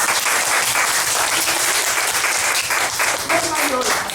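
A classroom crowd applauding for a girl named Mariola at a Santa Claus event, dense, loud and close clapping throughout, with voices talking and calling out over it.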